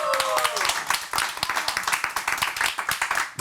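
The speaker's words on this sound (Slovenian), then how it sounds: "En lep aplavz za" Studio audience applauding a guest correspondent on a Slovenian comedy talk show, with dense, steady clapping that swells right after an announcer's voice and holds continuously for several seconds.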